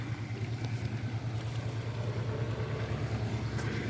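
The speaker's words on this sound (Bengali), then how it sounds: "এটা হচ্ছে গাদিয়াড়ার লঞ্চ ঘাট, যেখান থেকে আপনি গেঁওখালি, নূরপুর সব জায়গায় যেতে পারবেন।" Boats on the river at the launch ghat in Gadiara, heard as a steady low engine drone with a rhythmic throb under wind and water noise, continuous and fairly close.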